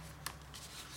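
Scrapbook cards slid back into an album, producing brief soft papery rustles and a couple of quick swishes close by in a quiet room.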